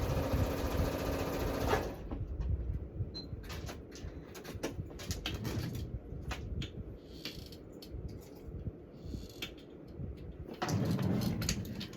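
Sewing machine stitching fabric pieces while it skips stitches, running loud and close in bursts at the start and end, with quieter clicking and handling between runs; no talking.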